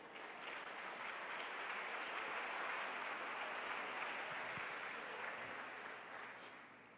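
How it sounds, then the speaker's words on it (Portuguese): A church congregation applauds in one sustained wash of clapping that swells and then tapers off, soft and somewhat distant, with little else heard. "Pode aplaudir o Senhor."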